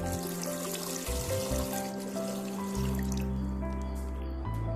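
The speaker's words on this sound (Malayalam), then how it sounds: "1 ലിറ്റർ പാലിന് 1 കപ്പ് വെള്ളം ഒന്ന് നമുക്ക് ഒഴിച്ചിട്ട് തിളപ്പിച്ചെടുക്കാം" Water poured into a pot of thick milk while making falooda, a steady liquid trickle and splash heard close up over continuous tonal background music.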